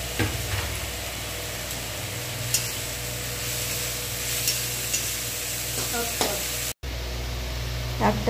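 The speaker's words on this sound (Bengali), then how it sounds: "শাকটাকে একটু ঘিয়ের সঙ্গে নাড়াচাড়া করে লবণ হলুদ দিয়ে দিচ্ছি" Greens fry in ghee in a wok with black cumin, giving a steady loud hiss of sizzling with occasional soft stirring scrapes, close, brief cut near the end, no talk.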